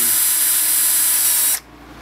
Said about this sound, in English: Let's just go ahead and pre-drill the other side also.